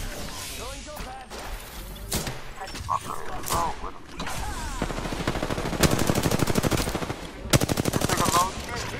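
Apex Legends gunfire: scattered shots give way to long, rapid automatic bursts with a fast, even rhythm, loud and close, with a voice talking in places between the volleys.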